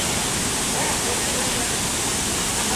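Cold, clean water rushes through the hills at Mussoorie in a steady, loud, close roar that fills the whole stretch without pause.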